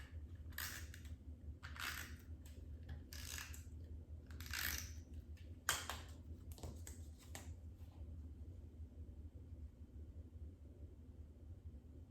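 Adhesive tape pulled off a roll and pressed onto a John Deere lawn mower cake topper, several short crackling rips in bursts over the first half, then quieter fiddling against a steady low hum.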